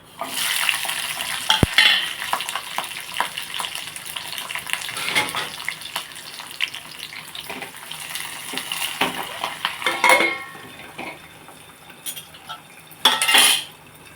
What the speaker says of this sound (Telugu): ఇందులో కొన్ని పచ్చిమిర్చి ఎల్లుల్లిపాయలు జీలకర్ర వేస్తున్నాను